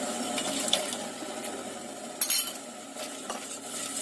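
Cornstarch solution is stirred into boiling sugar syrup with pandan in a pot, giving a low bubbling simmer and scattered light scrapes and clinks from the stirring utensil, with one louder clatter midway and no talking.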